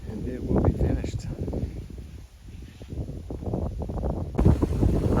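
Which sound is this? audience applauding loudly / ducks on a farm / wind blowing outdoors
wind blowing outdoors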